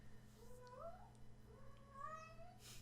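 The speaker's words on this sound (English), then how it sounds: "the cat's getting rowdy" A domestic cat meows twice, each call a rising, drawn-out yowl, heard fairly close over a steady low electrical hum, with no talking during the calls.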